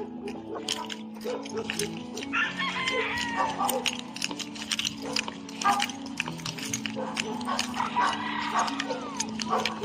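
Rooster crowing at a gamefarm, with other fowl clucking around it, steady farmyard noise throughout and people talking over it.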